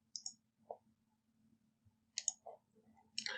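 Mouse clicks while answering multiple choice and true-or-false questions in an online quiz, a few sparse, quiet, sharp clicks spaced irregularly over a near-silent background.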